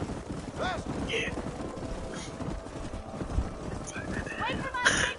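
Horses gallop through a canyon in Red Dead Redemption with dense, steady hoofbeats and several whinnies rising over the drumming, while voices talk over the herd and wind blows in the background.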